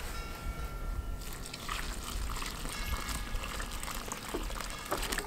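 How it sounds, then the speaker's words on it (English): Water is poured onto soil mix in a container while making soil blocks for starting tomato seeds, a soft steady trickle and splash that begins after a second of quieter rustling, close by. "And then I'll add water."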